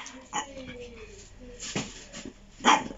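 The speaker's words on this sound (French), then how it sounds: "il aboie sur les tortues" A small dog yips and whimpers at two tortoises outdoors in Corsica, short high bursts coming in uneven spurts with a louder cluster near the end, while people talk over it.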